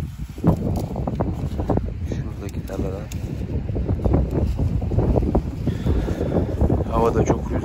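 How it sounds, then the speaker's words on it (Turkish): Strong wind buffets the microphone outdoors during vegetable picking, a constant low roar and rumble running the whole time under a person talking. "Havada çok rüzgarlı."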